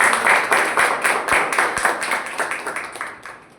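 A Toastmasters-style meeting audience gives a round of applause for the role-takers, with close, rhythmic group clapping in pulsing waves that gradually fade out.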